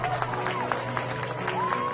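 Cartoon animals clap in wonder in a children's story scene, a light scattered patter of claps over a soft steady background, with faint voices mixed in.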